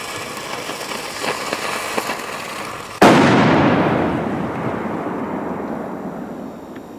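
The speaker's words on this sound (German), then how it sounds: "So, Silvery Flower von Funke Feuerwerk. Wunderschöner Böller." A Silvery Flower firecracker from Funke Feuerwerk, lit by a long fuse, goes off in a single loud, sharp bang that rolls out into a long fading echo over steady background noise.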